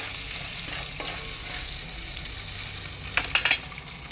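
Garlic, coriander and other ingredients for a Kathiyawadi garlic olo fry in hot oil with a steady, close sizzle, broken by a few louder stirring crackles near the end.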